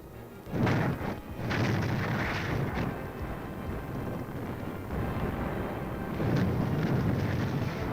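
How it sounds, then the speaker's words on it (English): Grenade explosions and flamethrowers in an army combat scene make a continuous loud, rumbling roar, with heavier booming bursts near the start and again near the end. "The troops finish the job with grenades and flamethrowers."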